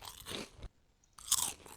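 Crunchy chewing and biting while eating canned spaghetti in the survival video game Surroundead: two bursts of munching separated by a short silence, close and clear, with no talking.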